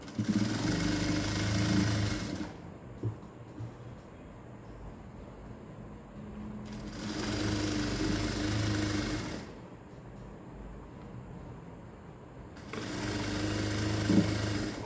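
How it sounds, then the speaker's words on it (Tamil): A sewing machine stitches around the waistband of a cigarette-style pant, joining the belt fabric to the pant body. It runs in three separate bursts of steady whirring with quiet pauses between them, close and moderately loud. "அப்படியே ரவுண்டாக ஒரு ஸ்டிச் போட்டுக்கிட்டே வாங்க"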